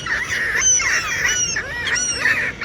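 A flock of geese honking repeatedly and loudly nearby, overlapping calls in quick succession with no talking.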